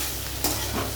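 Chopped capsicum and onion sizzle softly in a pan, and a single spatula scrape cuts through the steady frying hiss.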